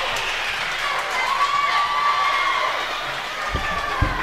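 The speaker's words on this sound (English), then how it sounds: "You can hear Scan's bench is off the charts right now as well, competing with the crowd" A high school varsity volleyball team bench and home crowd cheer together in a gym, a steady loud wash of shouting and applause, with a couple of sharp thumps near the end.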